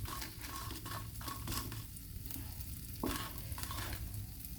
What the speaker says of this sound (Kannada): ಬ್ಯಾಡಿಗೆ ಒಣಮೆಣಸಿನ್ಕಾಯಿ ಹಾಕ್ಕೊಂಡಿದ್ದೀನಿ. ಹಾಗೆ ಡ್ರೈ ರೋಸ್ಟ್ ಮಾಡ್ಕೊತಾ ಇದ್ದೀನಿ.